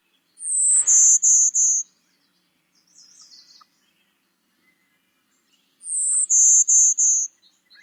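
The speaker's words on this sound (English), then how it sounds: "This is the golden-winged warbler." Golden-winged warbler song: two clear, high buzzy phrases, each a thin opening note followed by a rapid run of buzzes, with a faint softer call between them, outdoors and alone.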